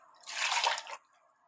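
Water poured into a pot of mutton curry (mutton kulambu), a brief close splashing gush that rises quickly, holds for under a second, then stops abruptly.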